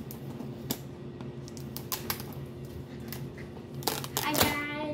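Packing tape being pulled open on a subscription beauty box: a few sharp crackling rips and taps close up, ending in a louder tearing burst, with faint background noise.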